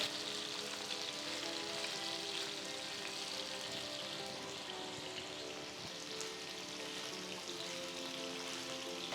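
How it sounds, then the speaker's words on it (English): Paneer pieces roasting in a hot pan give off a steady, dense sizzle and crackle, close and continuous, with no voices. "Gently start flipping the pieces. Make sure it's roasted on all sides."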